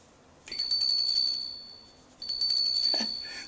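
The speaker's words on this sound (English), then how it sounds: "It's a magic bell. It dingles." A small handheld bell rings twice, each a bright, clear metallic ding that shimmers and slowly fades, the second strike about two seconds after the first, close and fairly soft.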